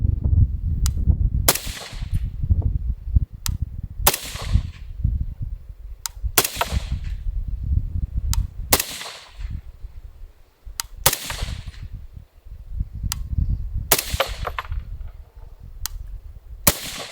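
A suppressed .308 M110-style rifle fired rapidly, roughly a dozen sharp cracks spaced about a second apart, each followed by a low rumbling tail, over steady outdoor wind noise.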